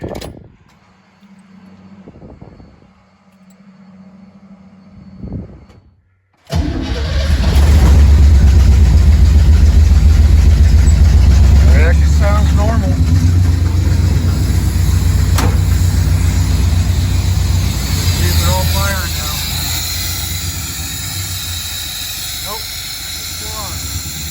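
A car engine fitted with Holley Sniper fuel injection starts after quiet fuel pump priming, then roars loudly and steadily at close range before settling to a lower rumble.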